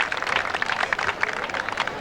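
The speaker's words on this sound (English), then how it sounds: "let's give the volunteers and that's a big round of applause" Audience at the 1997 Fete Caribe official opening clapping for volunteers, a dense, steady patter of many hands at moderate distance.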